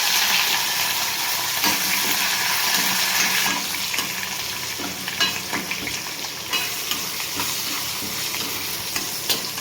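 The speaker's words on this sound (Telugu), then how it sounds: "పోపు అయితే ఫ్రై అయిపోయింది." Dried red chilies, crushed garlic cloves and curry leaves hiss and crackle in hot oil as a tempering fries in a pan, a steady close sizzle with occasional stirring scrapes and pops, and no talking.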